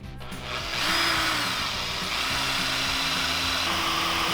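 A power drill with a dull bit whirs steadily and loudly up close, boring into material in a VW camper van, with a constant high grinding whine that barely changes.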